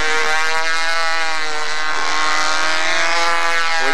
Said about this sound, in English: This is the loudest plane.